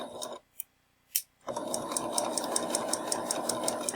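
A sewing machine stitches a fabric piece on, starting with a few short separate bursts of needle motion, then running in a steady, fast, rhythmic whir close by.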